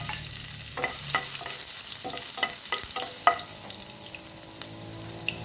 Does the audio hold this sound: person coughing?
no